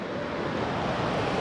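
Steady, loud surf roars without pause, a broad wash of huge ocean waves breaking on a beach in Bali, with some wind rumble mixed in.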